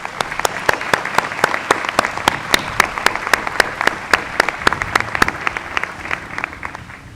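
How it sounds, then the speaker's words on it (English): Commencement audience applauding faculty and staff, a large room filled with steady, rhythmic clapping, sharp individual claps standing out over a continuous wash that fades slightly near the end. "Please give them a big round of applause."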